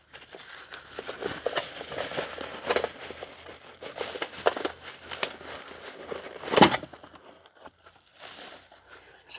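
Hands rummage through a plastic bag of salvaged items during a storage shed clean-out, giving close, intermittent crinkling and rustling with one sharper crackling burst near the end.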